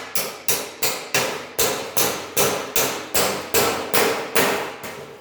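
A chisel is driven with a hammer between spot-welded metal panels to split the weld, about fourteen hard, ringing metallic blows in a fast, steady rhythm, loud and close with no speech.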